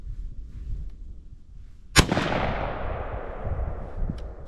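A single sharp blast from a shotgun firing a .410 shell, close and loud, followed by a long rolling echo that fades out over outdoor background noise.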